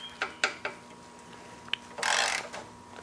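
Rusted exhaust bolt on the muffler side of a Porsche 911 3.2 Carrera squeaking as it is unscrewed: a few short, sharp chirps, then a louder, longer grinding squeal near the end, close up with no talk.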